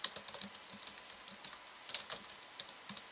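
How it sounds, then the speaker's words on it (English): Fast typing on a computer keyboard, a steady run of crisp, close key clicks in short bursts with small pauses, with no talk over it. "Feel free to laugh at my typing."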